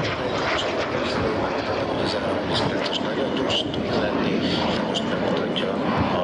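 Aero Vodochody L-39 Albatros jet passing slowly at an air show, a steady broad engine roar held throughout, with an announcer talking over it.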